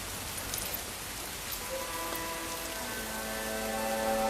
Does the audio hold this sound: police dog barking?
no